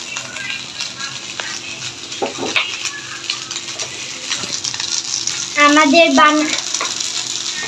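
Leftover cooked rice being stirred in a hot pan, a steady sizzle and frying hiss under scraping spoon-on-metal clinks, with a louder burst of sizzling near the end.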